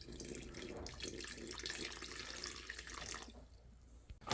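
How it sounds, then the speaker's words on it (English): Water pouring into a container to mix cement, a steady splashing trickle like a running tap that stops abruptly near the end, fairly faint and heard alone. "So first I'm just going to add some water."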